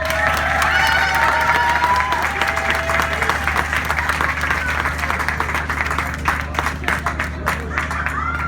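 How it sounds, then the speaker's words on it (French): An indoor audience breaks into sustained, dense applause at a supermarket celebration event, loud and steady, slowly thinning toward scattered claps at the end. "c'est lui qu'on va applaudir maintenant"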